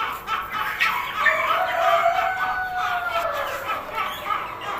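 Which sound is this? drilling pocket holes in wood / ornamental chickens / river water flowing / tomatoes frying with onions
ornamental chickens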